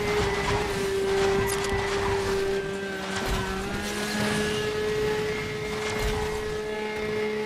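Car engine in a racing video game, a loud, sustained engine drone with a steady tone that shifts gently in pitch, accompanied by road and tire noise, with no voices.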